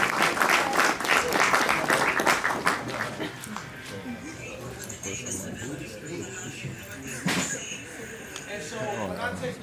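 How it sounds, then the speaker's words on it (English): An audience applauds for the mayor, with loud close claps at first that fade into scattered clapping and crowd noise while people talk over it. "Round of applause for our mayor."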